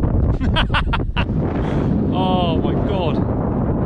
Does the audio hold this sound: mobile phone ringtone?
no